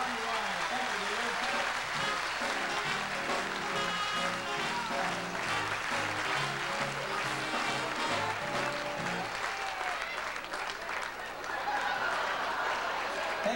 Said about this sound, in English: A big round of applause for Ronnie Ryan